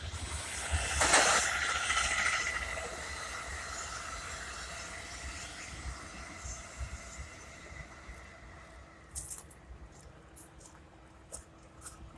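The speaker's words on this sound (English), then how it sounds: "Oh, man, here come a high-speed rail." A high-speed Amtrak train rushes past a track construction site with a loud hissing whoosh that peaks early, then fades into a long rumbling wash of wind and track noise.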